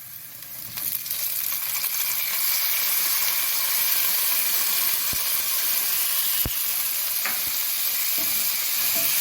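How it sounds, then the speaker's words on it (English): Tomatoes sizzle and crackle in a hot frying pan, a loud, steady hiss broken by a few sharp pops, with no talking over it. "You hear that crackle? Yeah. That's all the water from the tomatoes hitting the pan."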